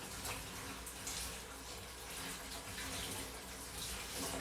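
Faucet water running steadily into a sink while pre-washed salad greens are rinsed again, a constant soft rushing hiss at low volume without pauses or talk.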